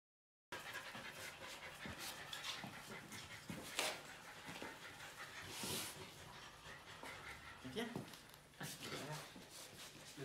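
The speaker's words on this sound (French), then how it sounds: "vous entendez un chien pendant toute la partie qu'on va faire actuellement" Iris the dog pants, whimpers and lets out an occasional bark close by during a Warhammer 40k Kill Team game, while people talk over it throughout.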